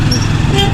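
A short, loud vehicle horn blares over road noise, one sustained toot close by.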